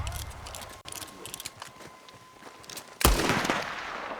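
Gunfire in Red Dead Redemption 2, scattered sharp shots amid game sounds, ending with one loud, close final blast that rings out over the last second.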